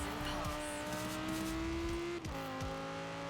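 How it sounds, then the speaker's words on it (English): An Audi R8 engine in the Forza Horizon 4 racing game drones with a sustained high rev that climbs gradually, briefly drops at a gear change, then resumes, loud and close with a faint voice underneath. "Oh my god, just listen to the sound of this freaking car"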